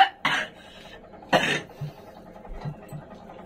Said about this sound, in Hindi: इनके खांसी जा रहा